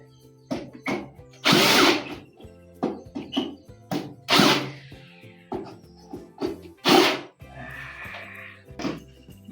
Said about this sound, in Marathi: ते होल आपण हे करून घेऊ, होल पाडून घेऊ